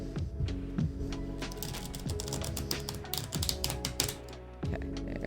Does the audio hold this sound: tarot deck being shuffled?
yes